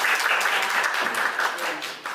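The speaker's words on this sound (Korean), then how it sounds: "박수 부탁드립니다." An audience at a National Assembly forum on stalking punishment law applauds, a dense, even burst of clapping filling the short stretch from start to finish.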